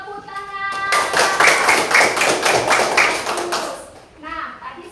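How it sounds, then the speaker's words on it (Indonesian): Children in an Indonesian primary school classroom clap together in a quick, rhythmic pattern for about three seconds, with young voices just before and after. "Ayo tepuk tangan."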